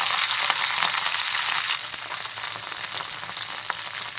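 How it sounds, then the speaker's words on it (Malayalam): Curry leaves and two green chillies frying in hot oil, a loud, dense sizzle that eases slightly after the first couple of seconds and keeps crackling on its own. "കുറച്ച് കറിവേപ്പിലയും 2 പച്ചമുളകും കൂടെ വറുത്തിടാം."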